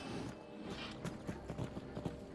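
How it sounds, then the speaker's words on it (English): Horse hooves clip-clop in the VR game Skyrim, a run of soft, fairly close steps over a constant background hum, with no talk over them. "I can hear a horse."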